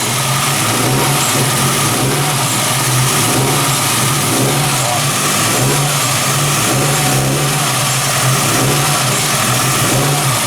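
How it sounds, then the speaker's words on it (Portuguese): A Volkswagen Golf Mk3 engine with delayed throttle response is revved steadily, the note rising and holding without dropping back; loud, close and continuous, with no voices over it. "Eu vou acelerar e você vai ver que ele demora 1 segundo para responder"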